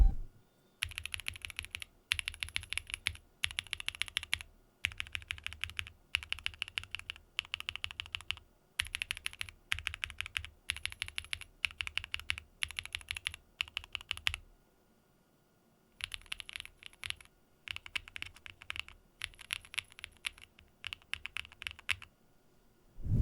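Steady clacky typing on a mechanical keyboard with Wuque MMSwitch switches, close and crisp, in bursts of rapid keystrokes with a brief pause midway, no voices.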